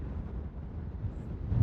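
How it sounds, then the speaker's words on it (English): Steady low wind rumble buffeting the microphone on a mountain ridge below Black Velvet Peak, Nevada, a constant roaring gust with no voices, swelling slightly toward the end. "Very windy, as you can tell."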